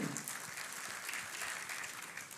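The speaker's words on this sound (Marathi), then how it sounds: "तर त्यासाठी आपण एकदा जोरदार टाळ्या अनुराधाताईंसाठी वाजवूया" An audience at a memorial lecture event applauds Padmashri Anuradha Paudwal, a dense, steady round of clapping from a hall crowd, fairly distant and sustained throughout.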